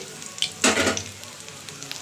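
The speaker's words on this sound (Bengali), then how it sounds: "বাকিগুলো ভেজে নিচ্ছি।" Topse fish frying in hot oil make a loud, close sizzling burst that settles into a quieter, steady crackle, with no one speaking.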